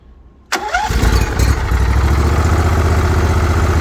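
A Ferris IS500Z zero-turn mower engine, at 726 hours and just fitted with new intake manifold gaskets, cranks briefly after a quiet start and catches at once. It then settles into a loud, steady idle that stays close and even.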